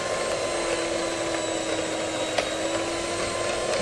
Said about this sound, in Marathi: हे बघा हे ब्लेंड करून घ्यायचं, याला फेस यायला लागतो।